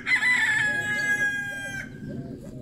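A Marans hen calls close by with a loud, drawn-out crow-like squawk. Softer clucks and low murmurs follow as the call fades.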